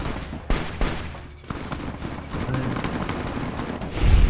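Gunfire in Fallout: New Vegas, a few sharp shots cracking out early, followed by continuous noisy battle ambience and scattered impacts.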